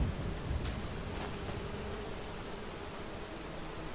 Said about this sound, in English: I hear a lot of bees out here.